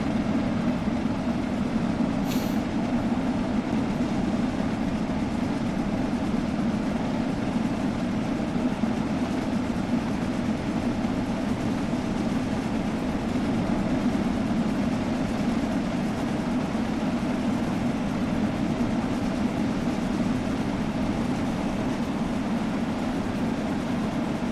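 Steam locomotive running in the Train Sim World 5 video game, a steady loud rumble of engine and rolling wheels that holds constant throughout, with no talking over it.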